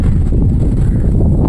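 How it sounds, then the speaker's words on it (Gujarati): Wind rushes hard into the microphone on a bridge, a loud, steady low roar and buffeting rumble throughout with no talking. "પવન કેટલો મસ્ત આવે, એક નંબર પવન આવે"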